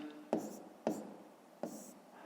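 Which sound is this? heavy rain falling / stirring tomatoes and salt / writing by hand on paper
writing by hand on paper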